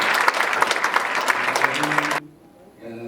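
Loud, dense applause from a seated audience welcomes the chairman of a textile industry federation at the launch ceremony of a sustainable circular economy forum, continuing steadily for about two seconds before cutting off abruptly into near quiet.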